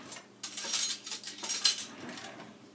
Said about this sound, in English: I mix it in the bowl first.